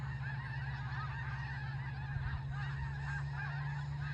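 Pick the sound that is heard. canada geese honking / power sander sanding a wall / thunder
canada geese honking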